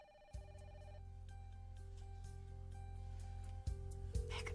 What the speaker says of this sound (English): Lucy, better get the phone